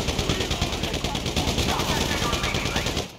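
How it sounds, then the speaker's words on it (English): Rapid automatic gunfire in Grand Theft Auto 5 during a heist shootout, loud and close with fast regular bursts of shots that run almost without pause to the end. "So I guess we're shooting our way out of here!"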